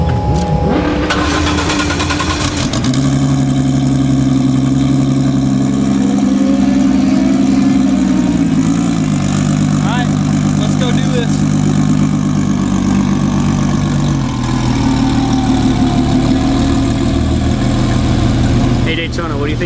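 A drag race car with a clutch-launched engine starts and settles into a loud, rough, throbbing idle at the strip before a run, rising slightly in pitch a few times, with voices talking faintly underneath.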